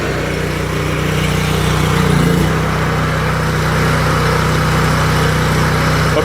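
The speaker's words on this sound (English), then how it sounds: "Get that RPM all the way up." Whisper Wash Classic pressure washer trailer engine running steadily at high RPM, a loud continuous drone with a slight swell in revs around the middle, heard alone without talk.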